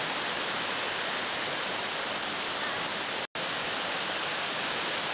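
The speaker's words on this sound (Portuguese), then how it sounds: "que é a segunda cachoeira" Broad, steady rushing of a waterfall in the hills of southern Minas Gerais, heard from high on a cliff wall, a constant hiss-like roar with one brief dropout.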